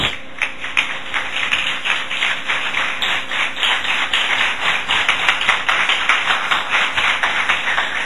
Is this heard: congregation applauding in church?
yes